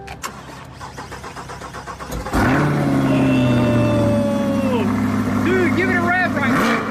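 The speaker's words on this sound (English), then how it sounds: "are you ready to fire this thing up? dude, I mean, it should just fire right up." A 2023 Corvette C8 engine cranks over and catches around the midpoint, settling into a loud, steady idle with a deep rumble and a faint rising tone, after quiet rustling at the start.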